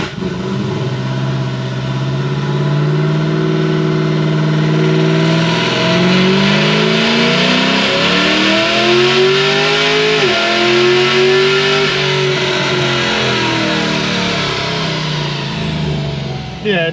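A supercharged Chevy SS with a Whipple blower, on stock tires, accelerates hard through the gears, its loud engine note and supercharger whine rising steadily and dropping at an upshift before climbing again, close and continuous.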